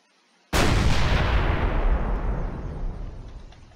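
A big ship's cannon fires in a WW2 eastern front video game mod: one sudden, loud, close blast that rolls into a long rumbling decay over several seconds.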